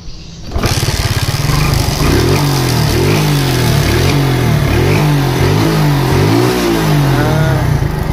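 A motorcycle engine, rewired to run from an extra battery without replacing the rectifier, starts and revs repeatedly up and down, loud and close, with a rough, buzzy throttle pattern and no talking.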